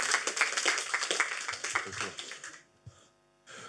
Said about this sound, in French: On applaudit Clément, s'il vous plaît.